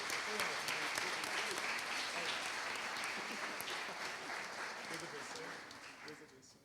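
Sustained applause from a large church congregation, dense and steady, gradually fading toward the end.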